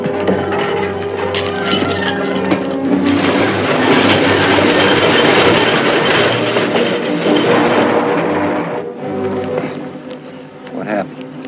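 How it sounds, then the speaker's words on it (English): A train rolls past in a classic western film, a loud sustained rumble and clatter of cars that peaks midway and then eases off, with some speech at the end. "Sounds like a train now."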